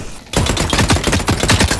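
Rapid automatic gunfire in The Cycle: Frontier bursts in after a brief quiet and hammers on in a loud, dense stream of close shots with no talk over it.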